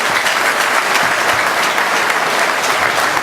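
Loud, dense applause from a crowd at the closing rally of a 2014 municipal election campaign, many hands clapping steadily and evenly throughout with no talking.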